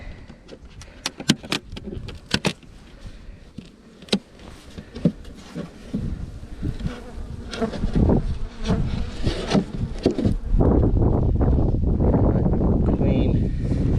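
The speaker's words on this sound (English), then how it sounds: "There's still bees in there." Bees buzz around an open hive, close and busy, with sharp taps and clicks early on, then a thicker, louder swarming hum building toward the end.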